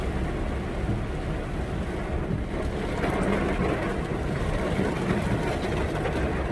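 Heavy rain pounds a vehicle's glass during a drive on a road, a dense, steady roar of water filling the whole stretch with no break and no voices.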